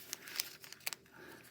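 A small piece of tape is torn and pressed onto a paper worksheet, making faint, quiet crinkles and short ripping ticks in a brief uneven burst.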